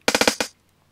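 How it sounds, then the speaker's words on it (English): Electronic drum kit on a two-step remix preset in Logic Pro plays a rapid burst of five punchy, loud hits in quick succession, then stops into silence. "electronic drum kits, two-step remix."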